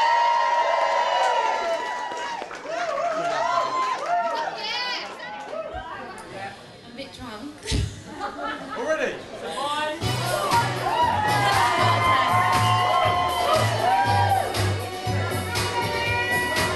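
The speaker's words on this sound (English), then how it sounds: "I want whooping, cheering, stamping on the floor" A studio audience whoops and cheers loudly with crowd chatter throughout, swelling again toward the end, and voices call out over the noise.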